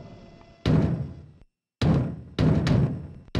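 Heavy pounding on a wooden door in the spooky castle chapter of the video game Conker's Bad Fur Day: loud, close thuds in several bursts, with a short silent gap between blows.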